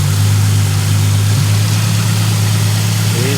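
A 2007 Ford Mustang's 4.0 V6 idles steadily with a fresh alternator fitted, a close, continuous low hum with no talk over it.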